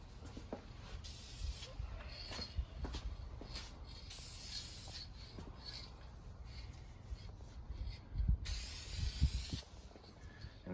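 Aerosol tint spray coating a 2018 Toyota 4Runner taillight, heard as several steady hissing bursts with short pauses between them, close and fairly loud.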